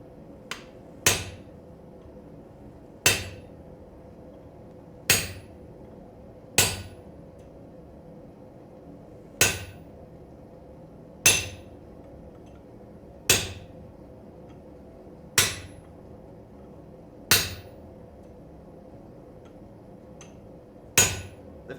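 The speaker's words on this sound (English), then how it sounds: "The feeling of a hot cut chisel cutting into steel is very, very nice." Hot cut chisel struck with a hammer into steel: about eleven sharp, ringing metallic blows spaced roughly two seconds apart, each decaying quickly over a low background hum, with no talk.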